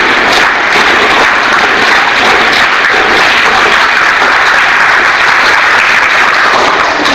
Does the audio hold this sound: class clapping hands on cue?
yes